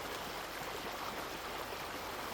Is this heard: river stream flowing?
yes